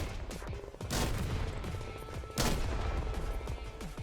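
Mech guns in the Mech Havoc video game firing bursts of shots, two sharp loud volleys standing out over a continuous rattle of gunfire and explosions.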